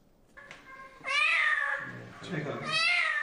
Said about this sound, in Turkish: Ön kolları kökünden kesilerek yolun kenarına atılmış kedi yavrusunu bulduk